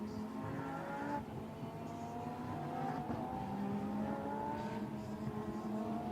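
Lamborghini Super Trofeo race cars roaring through Les Combes at Spa-Francorchamps, a steady, loud blend of several engines at high revs with shifting pitch as cars pass, continuous over the whole stretch with no talk.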